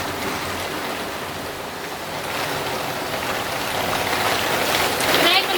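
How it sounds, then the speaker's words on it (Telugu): Heavy rain pours steadily, a dense hiss of water that grows slightly louder toward the end, with no voices. "వర్షము అస్సలు ఆగట్లేదు"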